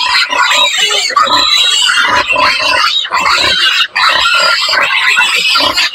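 Red first-parity sow grunting steadily and loudly up close while nursing eight-day-old piglets, with overlapping squeals and snorts from the litter throughout.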